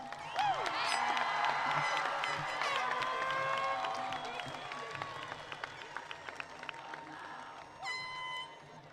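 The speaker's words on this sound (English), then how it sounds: "Let's give a round of applause for Miss Folsom." Applause and crowd noise fill a high school graduation ceremony in Fort Walton Beach, Florida, starting loud and gradually fading, with a brief horn-like blast near the end.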